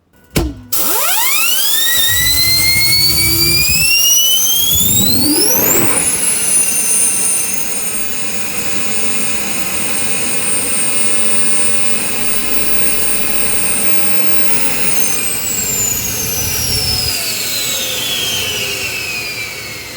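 A homemade jet engine for a jetbike, fitted with a new laser-cut flame tube, spools up with a rising shriek and then runs loud and steady with a piercing high whine and roaring rumble, its pitch easing down near the end.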